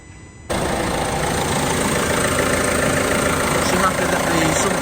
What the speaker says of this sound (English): after running the engine for a few minutes, leave it off for 10 minutes